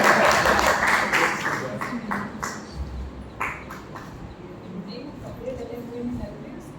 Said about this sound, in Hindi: ताली तो बजाओ इनके लिए।